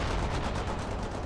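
Rapid continuous gunfire in the real-time strategy game World in Conflict, a steady loud machine-gun rattle with no speech.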